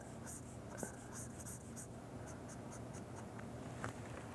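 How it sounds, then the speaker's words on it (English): Someone erases writing on a board with quiet, rhythmic rubbing strokes at a low, steady level, with no talk. "I'm going to erase that."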